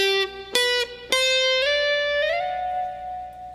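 A short guitar phrase of a few plucked notes, the last one sliding upward and sustaining, played clearly with no voices.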